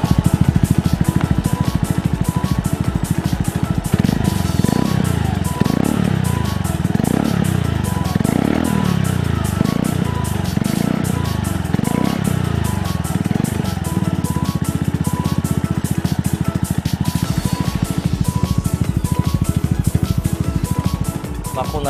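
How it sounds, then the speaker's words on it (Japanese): A loud, unmuffled Suzuki Address V125S scooter engine, its aftermarket muffler's baffle removed, idles roughly, then revs up and down repeatedly in a regular rhythm before settling back to a raw idle. "とりあえずね、エンジン吹かしてみますか。"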